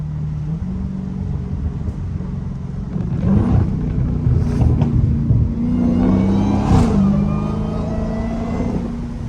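A Dodge SRT Hellcat rumbles down a street with a deep, continuous engine note that swells into louder revving midway, close and steady with no talk over it.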